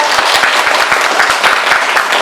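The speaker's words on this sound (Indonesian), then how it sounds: "Tepuk tangan dulu untuk Deva" Classmates applaud a student in a school biology lesson, a loud burst of dense clapping close by, lasting a couple of seconds without talk.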